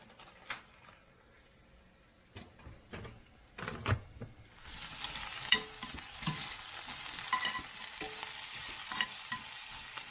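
Onion sizzles softly in olive oil in a pan, a faint frying hiss that swells partway through, broken at first by a few sharp clicks and scrapes of stirring.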